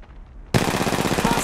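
After brief near-silence, a sudden burst of rapid automatic gunfire erupts in Apex Legends Mobile, loud and sustained in a fast, even rhythm until the end.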